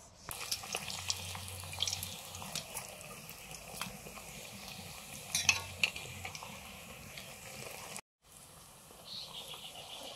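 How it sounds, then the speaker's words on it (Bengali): Naan dough fries in a pan, a quiet continuous sizzle with scattered clicks and scraping of a utensil, briefly dropping out near the end before resuming faintly. "এরকম নানটা ভাজা হলো।"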